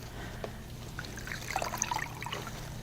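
Water being poured over a patient's arm to rinse it during a hospital bed bath, a soft, faint trickle and dribble that runs for a couple of seconds over a low steady hum in a quiet room.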